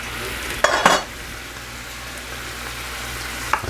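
Morel mushrooms fry in a pan with a steady moderate sizzle. A couple of utensil clatters come early on and another near the end, and no voice is heard.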